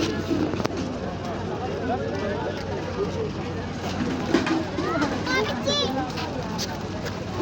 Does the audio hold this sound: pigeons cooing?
yes